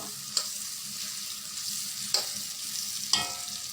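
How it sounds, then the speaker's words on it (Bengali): Onions frying in a pan until brown, a steady soft sizzle broken by three sharp spatula scrapes or taps against the pan. "পেঁয়াজগুলো ব্রাউন হয়ে এসছে"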